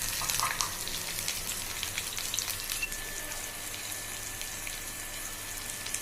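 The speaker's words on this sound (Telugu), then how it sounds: "అందులో ఎండుమిర్చి, వెల్లుల్లి అన్నీ బాగా వేగిన తర్వాత ఆనియన్ 2 మిర్చి వేసుకోవాలి." Onion and green chillies frying in oil with dried red chillies and garlic for an amaranth-leaf fry, a steady dense sizzle that is loudest at the start and then settles into an even crackle, heard up close with no voices.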